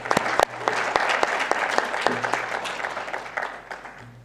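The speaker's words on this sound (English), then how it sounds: "join me in giving Fred a round of applause for all the work that he does" An audience in a parliament hall applauds, a dense run of claps with sharp individual hits standing out, steady for a few seconds before thinning.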